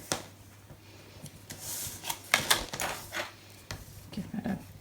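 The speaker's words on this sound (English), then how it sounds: "Give it a good burnish." A glued paper fold on a handmade brag book is rubbed firmly flat, giving close, dry scraping strokes and a few sharp taps in quick bursts, with no voices.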